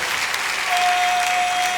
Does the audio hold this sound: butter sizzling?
no